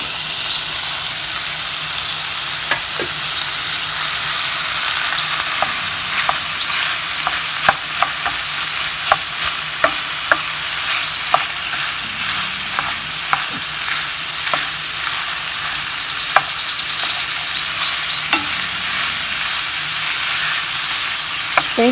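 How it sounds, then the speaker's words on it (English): Celery and green onions sizzle steadily in a frying pan for Tuscan chicken, a constant bright crackle with scattered sharp pops and occasional stirring scrapes, close and loud with no talking. "now we're going to add the celery and green onions"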